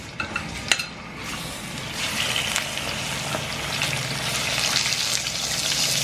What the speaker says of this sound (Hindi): तो देखिए, ऐसे चिकन को तकरीबन 5 मिनट्स आप लोगों ने फ्राई करना है।